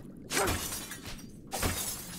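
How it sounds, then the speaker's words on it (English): Glass bottles shatter in the underwater video game Another Crab's Treasure, two loud crashing bursts about a second apart with bright scattering debris, up close and with no speech. "See if there's anything hidden in these glass bottles."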